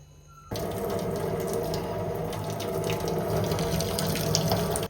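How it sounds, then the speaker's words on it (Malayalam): Water pours out in a steady rushing stream after a quiet start, draining continuously and close by from a pot of boiled tapioca. "നമുക്ക് ഇനി വെള്ളം വടിച്ചെടുത്ത് അതിനെ വാർത്തെടുത്ത് കളയാം."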